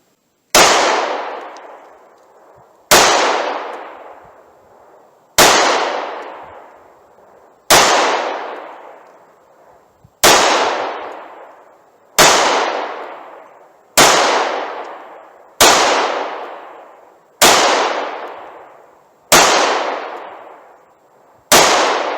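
A Taurus G2C pistol fires Sig Sauer ammunition at a target, ten loud, sharp shots at an even pace about two seconds apart, each with a short ringing decay, and no talking.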